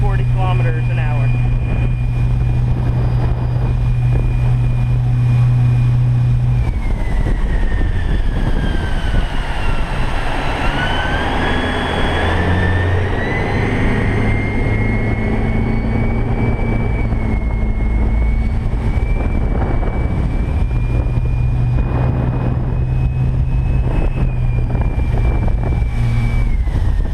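Electric boat motor running at 3,500 RPM, drawing 170 amps at 40 km/h near Amsterdam, a steady close whine with a pitch that drifts down and back up over a rumbling hull and water wash while someone talks over it.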